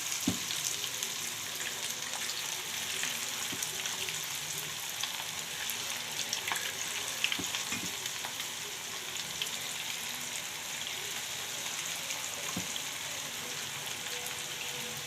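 Banana flower pakoda bubbles and sizzles in hot oil over a low flame, a steady close crackle with scattered louder pops, no talking.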